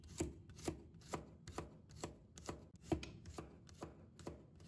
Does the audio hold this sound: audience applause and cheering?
no